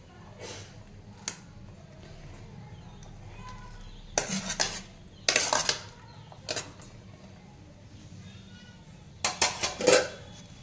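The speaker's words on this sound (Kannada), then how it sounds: "ಆ ಉಳ್ಳಾಗಡ್ಡಿ ಸಮ ನಾನು ಇದಕ್ಕೆ ಸೇರಿಸ್ತೀನಿ." Finely chopped onion is added to a spiced potato filling for aloo paratha, with bursts of metal spoon scraping and clanking against a pot or bowl as it is mixed, separated by quiet gaps.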